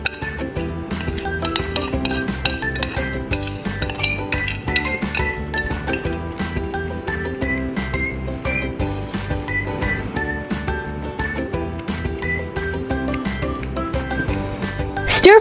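Rice and eggs being stir-fried in a pan: a continuous fast clatter of a spatula clinking and scraping against metal in brisk rhythm, close and fairly loud for the whole stretch.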